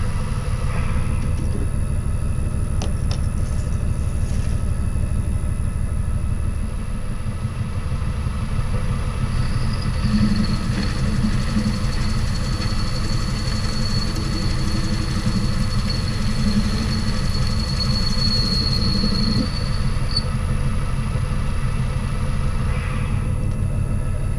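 A metal lathe takes light cuts on a steel bar being turned into swing arm dust covers for a classic Kawasaki Z1000, with a constant motor hum throughout and a thin high whine from the cut in the middle.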